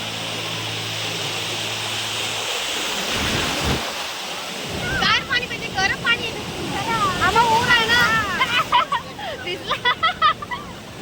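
Sea surf at Shrivardhan beach rushes and washes in a broad, continuous roar, with wind buffeting the microphone and people chattering loudly over it in the second half.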